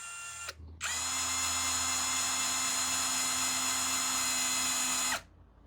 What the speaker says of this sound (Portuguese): vou furar mais um pouco